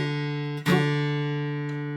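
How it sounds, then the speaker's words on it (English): A guitar chord fretted on the fingertips rings out clean and sustained, with a single fresh strum partway through that is followed by an even, slowly decaying ring. "The chord will now have a nice, clean, crisp sound."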